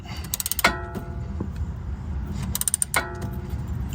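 A Honda Accord front end link slowly cranked out with vise grips: metallic clicks, creaks and ratcheting clunks in short bursts, close and moderately loud over a rough, low mechanical background.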